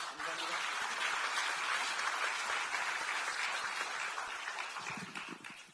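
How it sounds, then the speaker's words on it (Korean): A crowd at a Democratic Party gathering in Korea's National Assembly applauds a newly elected vice-speaker candidate, with a dense, steady round of clapping that fades toward the end as a voice begins. "여러분 따뜻한 박수로 맞아주시기 바랍니다."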